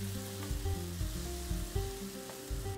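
Egg curry masala sizzles and fries in a pan, a close, steady crackle with soft rhythmic bumps like light stirring.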